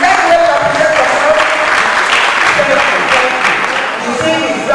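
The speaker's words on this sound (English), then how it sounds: "ACCE, please applaud yourself for the choice of theme for this conference" Conference audience in Awka, Nigeria applauding steadily throughout, a continuous dense wash of clapping with crowd murmur beneath.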